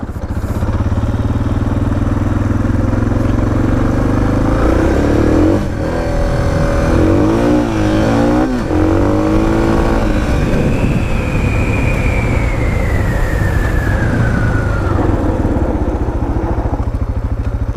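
A Suzuki DR650 dual-sport motorcycle drifts across a field, its single-cylinder engine droning loud and close throughout, revving up and down in waves as the rear wheel slides.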